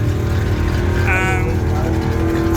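The KRolla drag car's engine drones loud and steady on the drag strip, a continuous close roar with a short higher whine partway through and no clear pauses.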